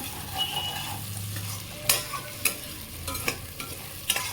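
Chicken curry pieces frying in a pan sizzle steadily up close, broken by several sharp scrapes and knocks of a spatula stirring at irregular intervals.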